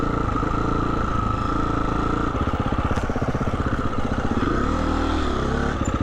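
A Husqvarna motorcycle rides a dirt road, its engine loud and close with a steady, throbbing drone that shifts in pitch as the throttle changes, alone without speech.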